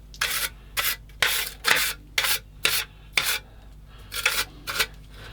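A 1/16 scale TAKOM M10 IIC Achilles British tank destroyer model in plastic is rubbed down by hand, giving about a dozen rhythmic rasping strokes in a close, quiet room with no talk.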